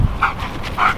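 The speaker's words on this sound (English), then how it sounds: "Cute dog, man." A dog out camping near lakes and rivers makes two short yips or whimpers, close by and fairly clear, with almost no other sound around them.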